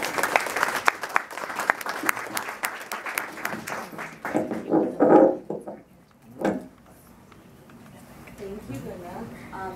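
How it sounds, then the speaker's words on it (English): Applause breaks out for a panel at a Muslim mental health conference on parenting and families, loud and dense at first with voices mixed in, then thinning out into scattered claps and murmuring. "Please give them a round of applause"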